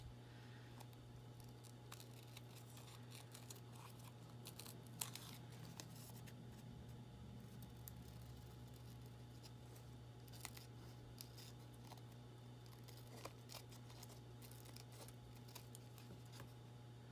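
Scissors snip at a paper card, trimming around its edge at close range over a steady low hum, with a few sharper cuts standing out among soft rustling.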